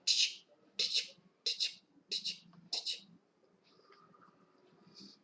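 Typing on a computer keyboard while working in LibreOffice Writer: five clustered bursts of rapid key clicks in steady rhythm, close and moderately loud, then quieter scattered taps.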